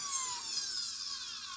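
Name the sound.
mandrel sander smoothing a carved finch tail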